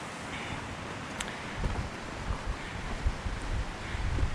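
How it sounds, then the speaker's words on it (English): A small waterfall beside a switchback hiking trail above Ice Lake Basin gives a steady, broad rushing, partly mixed with wind buffeting the microphone. "What's nice here is you have this little waterfall accompanying you part of the way."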